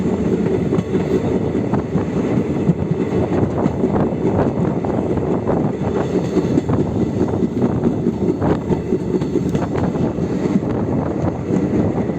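A train rumbling steadily along the rails on the snowy Srinagar to Banihal line in Kashmir, a constant loud rattle and clatter with wind noise, heard from inside or very near.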